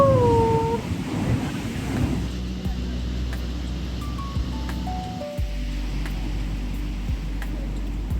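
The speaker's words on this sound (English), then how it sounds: "God, it's super windy here." Strong wind roars and buffets steadily at a seaside cliff in Varkala, Kerala, with a deep low rumble and gusting noise throughout; a brief whistling tone rises early on.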